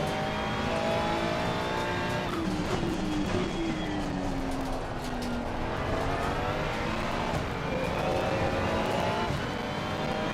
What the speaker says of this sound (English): I love the downshifts and the noise you get from the turbos.